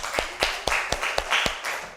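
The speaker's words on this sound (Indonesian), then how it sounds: "tepuk tangan untuk kelompok 2" Students in a classroom give a group quick, rhythmic applause, about seven evenly spaced claps in two seconds, close and clear.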